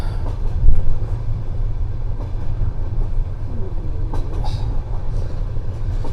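Soviet-era sleeper night train running between Chișinău and Bucharest, a steady low rumble and rattle of the carriage rolling along the rails, with faint clanks and knocks over the continuous drone and no talk.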